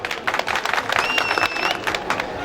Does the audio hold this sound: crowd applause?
yes